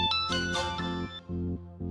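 A phone rings indoors in a household drama scene, a clear repeating electronic ringtone with stepped tones that pauses briefly and resumes, loud and alone without talk.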